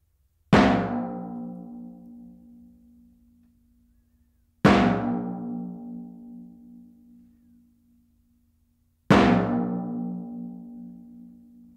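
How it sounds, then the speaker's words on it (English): A Lambeg drum with a goatskin head struck by Malacca canes, three single strikes a few seconds apart, each a sharp cracking snap followed by a long low ringing decay, alone and fairly close. "What you just heard was the initial snap of the cane on the drum head"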